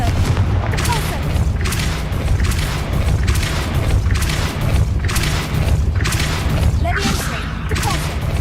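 Spell blasts in the Hogwarts Legacy video game: a rapid series of booming, crackling bursts about once a second, loud and continuous with dense rumble between hits.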